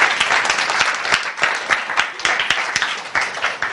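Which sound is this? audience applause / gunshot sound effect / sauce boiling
audience applause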